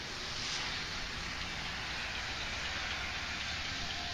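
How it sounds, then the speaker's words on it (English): Heavy rain falls steadily as a dense, even hiss, constant and fairly faint throughout, with no voices. "So it's raining pretty hard."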